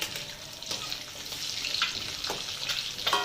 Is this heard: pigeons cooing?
no